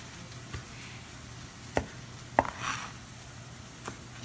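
Knife slicing through a rested, juicy steak on a board, a few quiet, separate taps and cuts, two of them sharper, over a faint background hiss.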